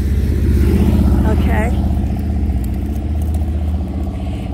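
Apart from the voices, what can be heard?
motorcycles passing on the street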